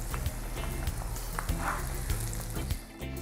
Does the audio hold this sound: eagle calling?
no